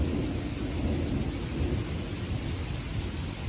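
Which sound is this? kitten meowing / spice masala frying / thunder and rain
thunder and rain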